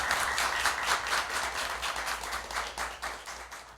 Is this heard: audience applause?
yes